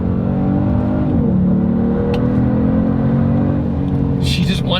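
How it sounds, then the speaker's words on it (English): A 2022 Genesis G70 turbo engine accelerating hard, a loud steady engine drone with whirring turbo tones that rise and shift, heard from inside the car. "The turbos spool up so quick."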